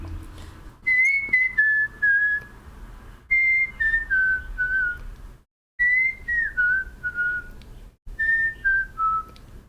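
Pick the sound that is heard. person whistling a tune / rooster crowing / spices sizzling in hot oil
person whistling a tune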